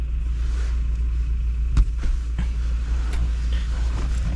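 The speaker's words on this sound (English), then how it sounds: "so I might go on a little drive" A car drives along with a steady low engine rumble and road noise, plus a few faint knocks and clicks inside the cabin.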